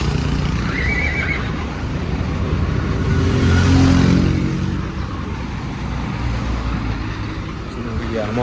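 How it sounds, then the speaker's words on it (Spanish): Horses being transported in a vehicle, with a clear whinny early on and further neighing over a constant low rumble of engine and road noise. "Hoy llevamos solo de caballos."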